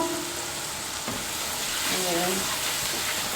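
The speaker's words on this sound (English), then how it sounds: "allow this to fry for a few minutes, then we'll go in with the rice." Garlic butter and sesame seeds frying in a pan for fried rice: a steady, loud, close sizzle fills the whole stretch, with brief spoken words over it.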